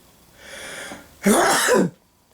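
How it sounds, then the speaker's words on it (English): A single close sneeze: a short breathy intake builds up, then a sharp, loud burst follows, after which it is quiet. "And I want to sneeze."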